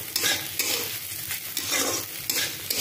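Chicken being stirred in a frying pan for a restaurant-style chicken fry, with steady sizzling and repeated scraping strokes of the spatula, close and continuous, without any talking.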